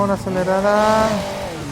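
Engine of a game car in Hill Climb Racing 2 rising in pitch as it accelerates, loud and close, with a voice talking over it.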